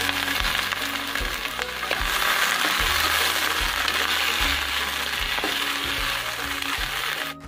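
Brinjal, potato and fish heads fry in a hot pan with two cut dried chillies, a loud, close, continuous sizzle broken by repeated scraping stirs and clinks from a utensil, with no voices.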